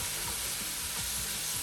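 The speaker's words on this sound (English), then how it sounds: "Now we're going to add our peppers. And it's a quick stir." Peppers added to a hot pan for chicken riggies sizzle loudly in a dense, continuous hiss, with soft low thumps of quick stirring underneath.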